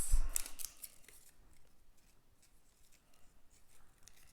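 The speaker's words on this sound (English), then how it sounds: "I'm going to trim my ribbon" Scissors trim a length of ribbon for a handmade card, a crisp snip at the start followed by faint, quiet cutting sounds in a hushed room.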